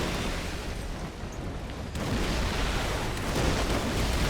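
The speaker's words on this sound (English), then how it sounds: "Oh my god, look at everything is just crumbling." Buildings crumbling on the Tunisia map in War Thunder under BM-8-24 rocket artillery fire, a dense, rumbling roar of blasts and collapsing debris that swells louder halfway through and keeps churning.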